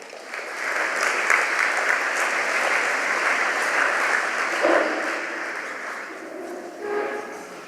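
Audience applause welcoming a speaker to the podium at a Big Brother Little Brother ceremony, a steady, full wash of clapping from a crowd that swells, holds, and slowly tapers off.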